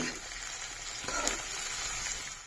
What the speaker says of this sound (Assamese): ৰঙা হোৱালে পিঁয়াজটো অকণ ভাজি আছোঁ